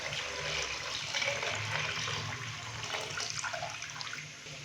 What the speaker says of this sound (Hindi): अभी मैं इसके अंदर 4 से 5 गिलास पानी डालूंगा।